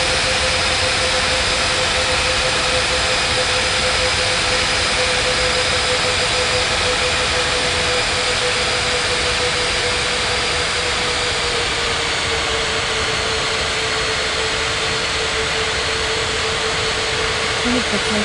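A jet airliner in an air traffic control game spools up with a steady, loud whining roar and a high tonal hum that hold evenly for the whole stretch.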